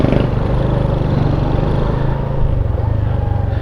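A ten-year-old Sym Bonus 110 motorcycle idles steadily close by, its small single-cylinder engine giving a low, even putter that holds constant without revving.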